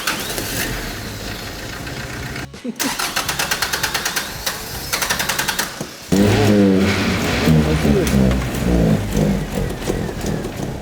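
A car engine running on diesel fuel cranks in rapid, stuttering bursts, cuts out, then catches and settles into a loud, knocking idle.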